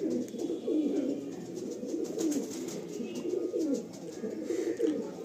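A loft of more than a hundred pigeons produces a continuous overlapping chorus of low burbling coos, several birds at once, steady and moderately close, with no clear speech.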